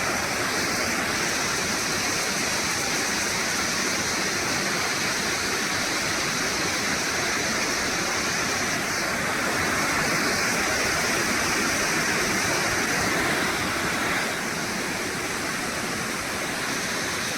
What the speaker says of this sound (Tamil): இது வந்து பார்த்திங்கன்னா சின்ன நீர்வீழ்ச்சி